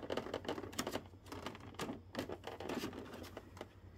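Tape is sliced and scraped off a toy box during unboxing, a quiet run of quick close scratching and crackling strokes in an irregular rhythm.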